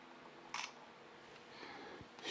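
A Canon EOS R5 Mark II fires its electronic shutter with flash at 1/8000th of a second, giving a sharp, brief click, followed by faint handling noise and a second click at the end, in a quiet room.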